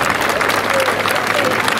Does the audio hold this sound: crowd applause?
yes